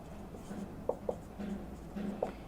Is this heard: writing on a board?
yes